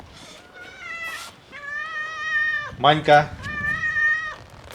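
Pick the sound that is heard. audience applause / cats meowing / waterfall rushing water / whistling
cats meowing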